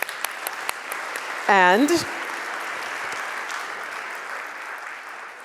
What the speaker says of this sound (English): let's give him a warm round of applause, ladies and gentlemen